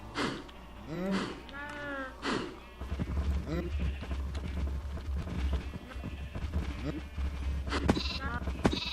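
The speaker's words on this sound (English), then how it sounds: "Not quite as many sheep in there." Sheep bleat from the Dwarfcraft video game, several calls in the first seconds, followed by denser game sounds and clatter that carry on through the rest.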